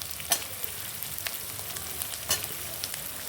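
Fish frying and being stirred in a turmeric and chilli powder spice masala for chilli fish, a steady soft sizzle with a few louder scraping stir clatters, close up and alone.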